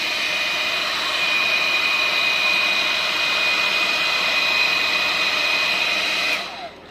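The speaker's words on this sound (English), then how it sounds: "I have a very loud and noisy heat gun" Very loud, noisy heat gun running for heat shrinking on a converted proximity sensor, a steady close whooshing roar with a high tone that holds for several seconds, then winds down.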